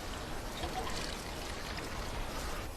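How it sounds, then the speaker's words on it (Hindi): Water is poured onto a potted flowering plant, a soft continuous trickle and splash that stays steady and fairly quiet throughout, with no one talking over it. "चलो तुम्हें पानी देती हूँ।"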